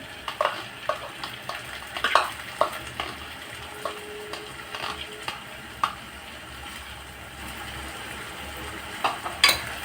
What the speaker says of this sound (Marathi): आता कांद्यामध्ये टोमॅटो मिक्स करूया